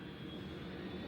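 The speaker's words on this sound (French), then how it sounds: "parce qu'il y a un avion qui passe" An airplane passes overhead near Orly airport, a faint, steady low engine rumble over one brief moment, heard alone without talk.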